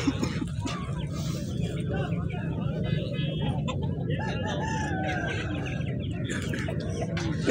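An Aseel rooster crows at the Chakwal poultry market, its calls rising a few times through dense crowd chatter and steady market bustle.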